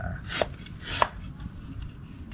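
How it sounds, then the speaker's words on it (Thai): A knife chops field rat legs on a board for a Thai Isan spicy stir-fry, giving two distinct sharp knocks followed by fainter taps, close and alone without talk. "นี่เป็นขา หั่นขา"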